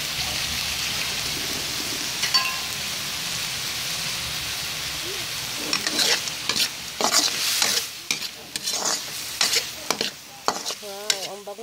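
Spicy butter garlic shrimp frying in a pan, a steady close sizzle that gives way to clattering, irregular stirring scrapes, with a voice speaking near the end.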